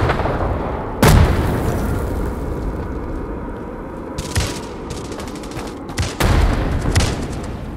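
Gunfire and a frag grenade blast in the shooter Hired Ops: sharp, loud impacts at irregular intervals over a continuous rumble of battle, with one heavier boom toward the end and no speech.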